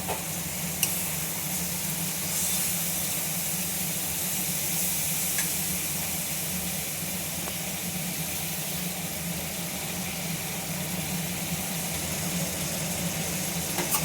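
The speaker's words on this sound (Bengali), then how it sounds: "এইবার কচু শাকটা আমি ভালো করে চিংড়ি মাছের সাথে কষাবো" Boiled taro leaves stir-fried with prawns in spiced oil, a steady loud sizzle and crackle running throughout with no talking.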